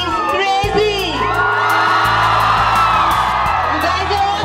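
Students at SGT University cheer, whoop and shout as a large crowd, loud and sustained throughout, with a voice calling out over the roar at an energetic campus event.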